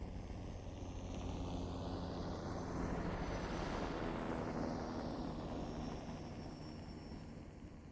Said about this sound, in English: we can listen to the helicopter